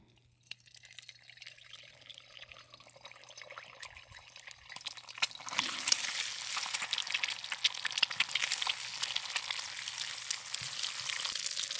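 Eggs poured into a hot wok for seafood curry fried rice, starting as a faint crackle and swelling after a few seconds into a loud, steady sizzle and spatter that carries on to the end, with no talking.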